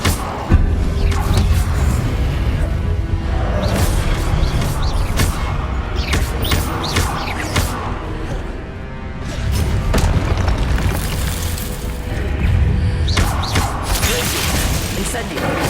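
The Incendio fire spell is cast again and again in the Hogwarts Legacy video game, giving loud repeated booms, bursts and crashes over continuous game noise.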